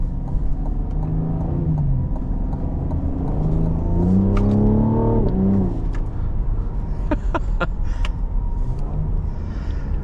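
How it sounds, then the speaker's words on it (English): A 2021 Cadillac CT5 Premium Luxury with a 3.0L V6 accelerates hard from inside the cabin, engine note climbing and dropping through quick upshifts with sharp cracks, loud and close, no voices over it. "I cannot get enough of those upshifts."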